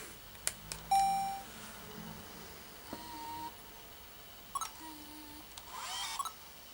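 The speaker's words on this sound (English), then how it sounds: "when you have melody on, it will play those chimes when you stop and start recording" Electronic melody chimes from a 14-year-old Sony Handycam camcorder as recording starts and stops, short clean beep tones spaced apart over quiet background, with soft button clicks.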